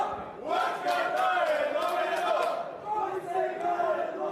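Poker final table crowd at a main event: a dense, moderately loud mass of voices chanting together in a sustained roar, with some rhythmic pulsing through it, and a brief dip near the three-second mark.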